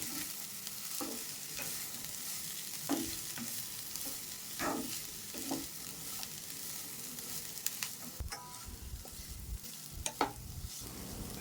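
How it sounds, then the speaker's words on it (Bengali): Cabbage, capsicum and tomato sizzle as they are stir-fried in a pan, with a soft continuous frying hiss punctuated by repeated scraping and clacking of a utensil, quiet and close with no speech. "বাঁধাকপি, ক্যাপসিকাম আর টমেটো দিয়ে সবজিটা একটু ভেজে নেব।"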